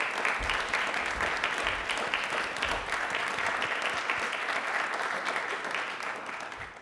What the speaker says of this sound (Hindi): तो एक बार इसी के लिए तालियां एक बार जोरदार बनती हैं